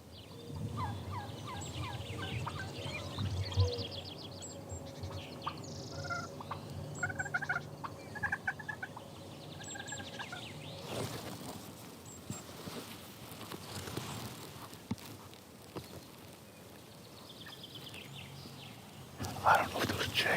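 A wild Merriam's turkey tom gobbles outdoors, several rattling gobbles in the first half of moderately faint field audio, with hushed talk and rustling in between.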